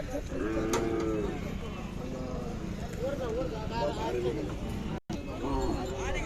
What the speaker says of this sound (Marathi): अशा प्रकारची गाय आहे